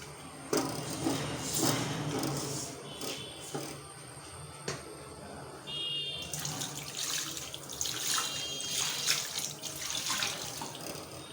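Water splashes and pours in uneven bursts over a fish head being sautéed in a pan, with clinks and small drips between.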